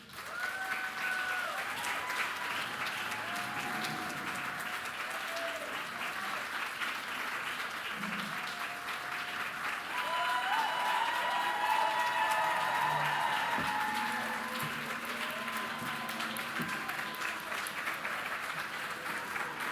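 Sustained applause from a celebration crowd fills the room, steady and fairly loud throughout with some cheering mixed in and brief murmurs of voices underneath.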